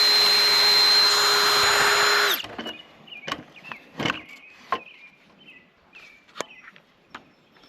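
Power drill boring half-inch holes in wood for a carpenter bee trap: a loud, steady whine runs for about two seconds and stops abruptly, followed by scattered knocks, taps and clatter of handling the wood.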